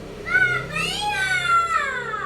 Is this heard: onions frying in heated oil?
no